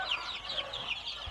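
Chickens cluck softly at close range on a poultry farm on a hot morning, with a few quick rising calls over steady background noise.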